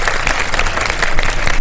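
A studio audience at a TV quiz show applauds the contestants, dense and lively clapping sustained across the short moment.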